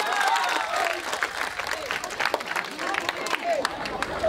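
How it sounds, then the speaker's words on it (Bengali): An audience at a university rag concert at BAUST applauds for the teachers, with dense crowd clapping filling the hall and a voice heard over it. "আমি স্যারদের জন্য একটি জোরে করতালি আহ্বান করছি।"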